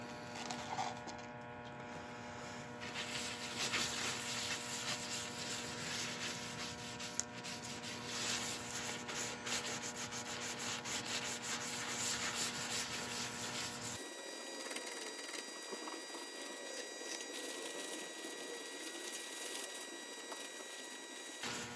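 A shellac and linseed oil finish is rubbed onto a figured ash bud vase, likely while it spins on a lathe, producing a steady friction hiss over a faint motor whine that drops away partway through.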